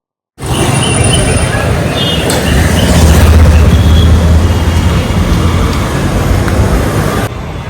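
A metro train at a metro station makes a loud, continuous broadband rumble that starts abruptly and holds steady for several seconds, then cuts off near the end.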